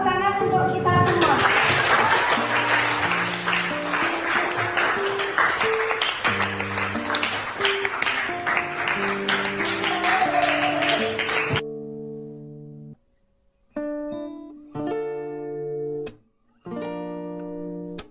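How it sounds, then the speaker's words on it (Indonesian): Applause in a high school class 11 IPS 4 classroom, a dense burst of clapping lasting about ten seconds under steady music, then the clapping stops and only sparse musical tones remain. "Terima kasih dan tepuk tangan untuk kita semua."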